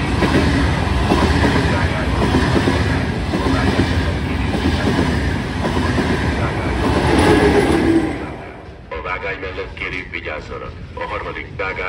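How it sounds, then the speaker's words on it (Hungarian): A train passes through a station with a loud, close rolling rumble and clatter for several seconds, then recedes, while a public-address voice makes an announcement. "A negyedik vágányon vonat halad át."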